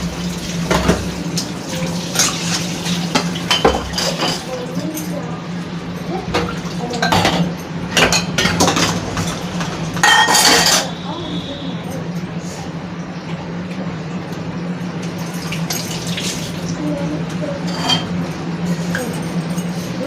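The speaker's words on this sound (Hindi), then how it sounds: "अब मैं साफ कर ले रही हूँ बर्तन।" Dishes, drinking glasses and cutlery clink and clatter in a sink under steady running tap water, with sharp knocks of glass and metal scattered across a long washing session and a constant low hum behind it.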